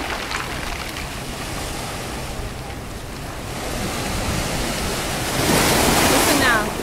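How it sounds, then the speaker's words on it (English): Mediterranean waves on a rocky beach at Cagnes-sur-Mer, a continuous rushing surf that swells louder toward the end as water drags back across the rocks in a low roar, with some wind buffeting the microphone. "when the waves go back out, they make this sound across the rocks, like a little roar"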